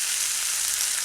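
A burger sears in a hot pan, giving a brief, continuous close sizzle with an even hiss and no talking.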